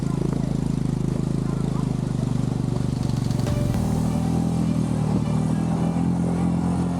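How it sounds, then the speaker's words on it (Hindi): Motorcycle engine labouring as it sinks into river sand during a crossing, with water getting into the silencer and engine; a steady, loud, rough drone with clatter runs throughout, dipping and shifting pitch midway. "बाइक हमारी रेत में धंसना शुरू हो गई, जिसके कारण पानी साइलेंसर और इंजन में जाना शुरू हो गया"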